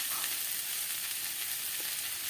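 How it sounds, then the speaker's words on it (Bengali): Chopped onion, garlic, potato and bitter gourd fry in hot oil in a pan, a steady, dense close-up sizzle that stays even throughout with no talking. "পেঁয়াজ কুচিটা দিয়ে দিলাম, রসুন কুচিটা দিয়ে দিলাম, আলু আর উচ্ছেটা লাল হয়ে গেল"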